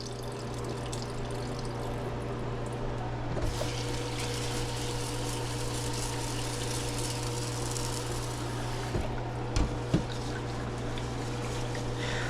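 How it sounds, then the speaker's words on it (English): Short grain Calrose-type rice being rinsed in water in a home kitchen, a steady trickling wash over a constant appliance hum, with a few faint clinks near the end. "Cleaning rice tries my patience."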